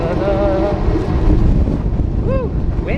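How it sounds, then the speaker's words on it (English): Strong wind buffets the microphone outdoors with a loud low rumble, gusting unevenly throughout, with a few faint tonal squeaks near the end. "Woo, windy."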